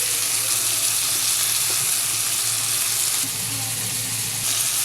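Green chili paste and spice paste fry in hot oil for a potato and puti fish bhuna, giving a loud, steady, close sizzle that continues without a break.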